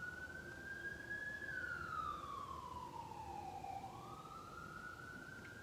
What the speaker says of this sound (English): Hey, that siren.